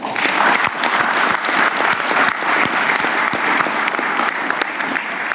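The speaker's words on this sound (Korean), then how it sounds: "우리 격려의 박수 한번 부탁드릴까요?" A large crowd at a Korean government event honoring national team athletes applauds loudly and steadily, clapping continuing without pause throughout.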